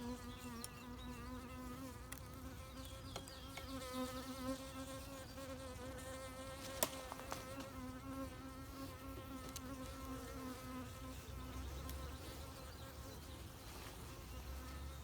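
Dense, continuous buzzing of many honeybees around an open beehive, a steady close swarm drone with shifting pitches and occasional brief knocks, no talking.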